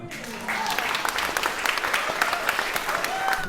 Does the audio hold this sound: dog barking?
no